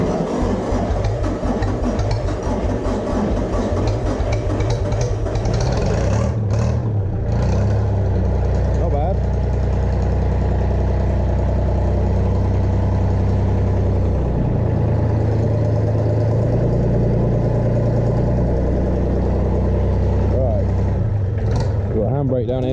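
A diesel farm vehicle engine starts after its glow plugs warm, then runs at a steady loud rumbling idle up close, with someone talking over it throughout.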